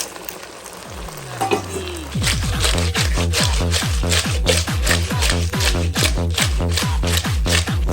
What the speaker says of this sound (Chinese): 姜蒜末搞里头，干辣椒搞里头，再把水淀粉、生抽、蚝油搞里头，